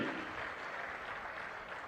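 Audience applause at a TDP public meeting in Gudivada with Chief Minister Chandrababu Naidu, a brief burst of steady clapping, fairly faint and distant.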